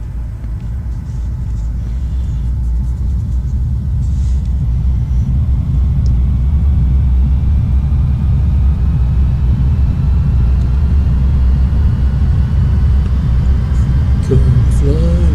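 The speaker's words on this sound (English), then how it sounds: "get the engines wound up and let's get going." Aircraft engines spool up in the flight simulator FSX, a loud steady low rumble that builds slightly over several seconds, with faint speech near the end.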